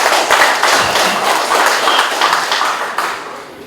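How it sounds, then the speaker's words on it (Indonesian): Loud, dense applause from an audience at a community forum inauguration in Mimika fills the space continuously, with many hands clapping at once and no voices on top. "Tepuk tangan"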